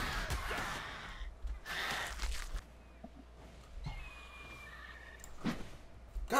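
Heavy, gasping breaths from a tamed creature in the survival game Ark, coming in several loud, breathy bursts with quieter game noise and faint tones in between.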